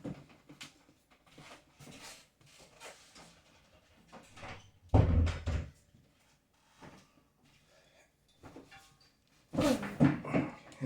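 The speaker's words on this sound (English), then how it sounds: "Let me close this door." A door is shut in a room, giving two heavy thuds, one near the middle and one near the end. Quieter scattered handling knocks and rustles come between them, and no voices are heard.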